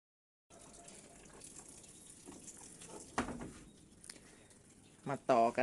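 An 11 kg washing machine running on a solar-powered setup fills with water for its second wash cycle, a steady close rush of flowing water with a few knocks and louder splashes near the end.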